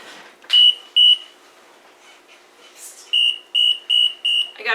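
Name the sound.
kitchen timer beeping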